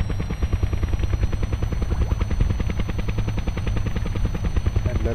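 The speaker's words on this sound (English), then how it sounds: "the reason that I decided to fly a helicopter instead of a plane" A helicopter flies in the video game Kerbal Space Program, a loud, steady rotor chop with a constant engine drone running alone throughout.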